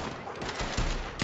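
Gunfire rings out in Red Dead Redemption 2, a short burst of several rapid shots with heavy low thuds, the last one loudest, close and punchy over a brief stretch of game noise.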